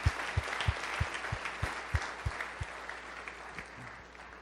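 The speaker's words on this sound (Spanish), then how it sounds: "Dale un fuerte aplauso al Señor" Church congregation applauding during a Spanish-language sermon, the clapping dense and steady against a low, regular thumping pulse like a bass beat that fades toward the end.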